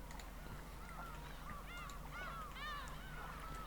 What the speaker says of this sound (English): that is a short sound file with the birds